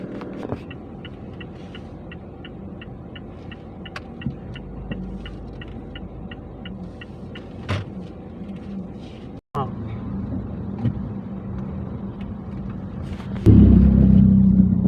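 A car drives along a congested suburban road toward a shopping mall, its steady engine hum and road rumble continuing throughout, with a regular ticking like a turn signal and a louder rumble near the end.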